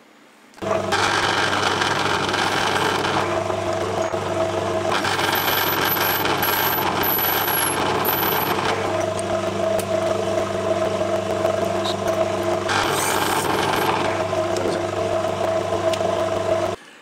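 A drill runs steadily with a constant mechanical whine, its pitch and grind shifting a few times as the bit works a 4.5 mm hole through brass.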